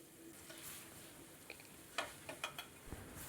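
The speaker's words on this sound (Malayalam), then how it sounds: "ഉപ്പും കൂടി ഇട്ട് കൊടുത്തതിന് ശേഷം ഒന്നും കൂടി ഒന്ന് ഇളക്കി കൊടുക്കാം" Onions frying in a pan for a brinjal masala curry are stirred, giving a faint low sizzle with a few soft scraping clicks from the spoon toward the end.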